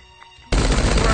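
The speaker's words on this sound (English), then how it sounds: "Is that someone shooting at me?" Loud, rapid automatic gunfire rings out in the video game Diesel Beasts, starting abruptly after a quiet moment and continuing as a dense close burst.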